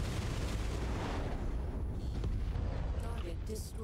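LRM missile salvos fire in MechWarrior 5, a dense rumbling barrage of booms and blasts that stays loud throughout under occasional speech.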